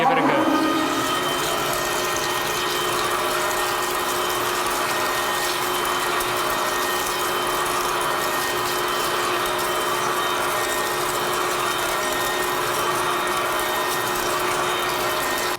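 A drill press at about 200 RPM, coarse-fed toward the workpiece, whines with a steady mechanical hum and faint chatter, loud and close throughout with no talk.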